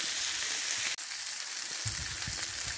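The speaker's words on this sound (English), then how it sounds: "let the vegetables cook down a wee bit" Vegetables frying in a pan on a woodburning stove inside a hot tent, a steady close hiss and crackle of sizzling fat continuing throughout with a brief dip partway.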